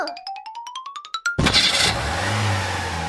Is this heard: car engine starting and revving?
yes